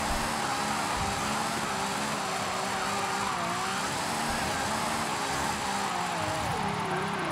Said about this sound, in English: the car itself is super raspy and very loud itself